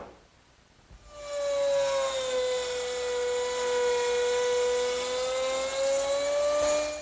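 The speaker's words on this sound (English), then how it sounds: "The straight slot is made easily by doing a pass from each side using a 1/4 inch round nose bit." A router fitted with a 1/4 inch round nose bit cuts a straight slot in wood for a writing desk, spinning up to a loud, steady, high-pitched whine that holds close and constant with slight shifts in pitch.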